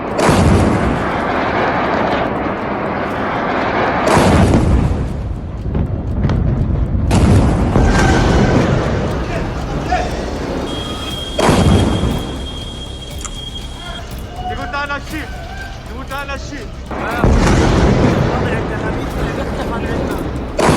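Missiles launch and explode during an Iranian attack on Israel, a series of deep heavy booms and roaring blasts, some sudden and loud, with a sustained rumble between them and people shouting over the noise.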